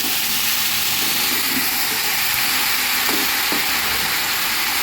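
Dried koi fish sizzle and fry in a hot pan with spices, a steady loud hiss of oil throughout with faint clinks and stirring.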